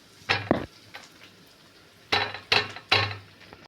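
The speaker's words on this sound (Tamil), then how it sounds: "பூண்டு தட்டிக்கலாம்." Garlic being pounded for aadai batter in a Kerala kitchen: a few sharp knocking thuds, first a pair, then three spaced strikes after a pause, close and alone.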